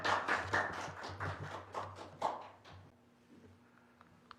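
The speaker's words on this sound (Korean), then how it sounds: "우리 넬슨리 목사님 환영한다고 우리 환영의 박수 좀 치면서 앞으로 모시겠습니다" A church audience gives a short round of welcoming applause for a pastor, a dense spatter of hand claps lasting a few seconds before fading out into a quiet room.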